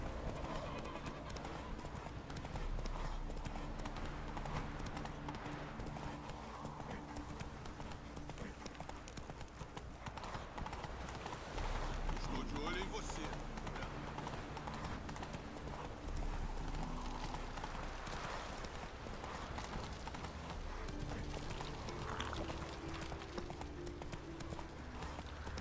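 Continuous rhythmic hoofbeats of a galloping horse in The Witcher 3, under a dense game soundscape, steady and moderately loud throughout.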